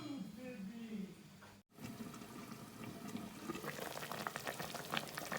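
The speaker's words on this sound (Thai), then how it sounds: "น้ำเดือดเดือด" Water bubbles and churns at a rolling boil in a rice cooker pot with chicken, a continuous hiss with a brief cut partway through, and a voice speaks over it early on.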